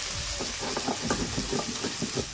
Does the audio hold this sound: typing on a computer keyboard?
no